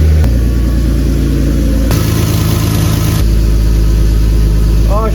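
A BMW E30 engine idles loud and lumpy after reassembly, its low rumble shifting pitch partway through, sounding rough, uneven and tractor-like.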